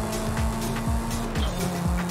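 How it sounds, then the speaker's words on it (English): A racing-game car drifting, engine droning steadily with repeated tire squeals and rhythmic revving pulses, loud and continuous throughout. "Freaking racer decides to drift now."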